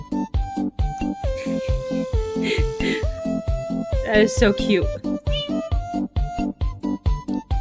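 A cartoonish cat meow sound from the Maxwell cat mod in Minecraft repeats in a bouncy rhythm over a tune, with a person briefly speaking over it.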